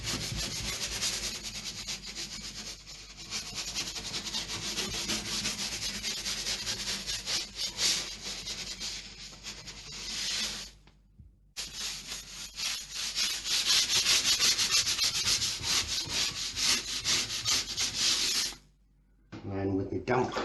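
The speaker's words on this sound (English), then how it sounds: "Now with PVA diluted in the bucket, I'm literally scrubbing this in." A brush scrubs diluted PVA into wooden beams with steady, close, rasping strokes that run nearly continuously, breaking off twice with brief pauses.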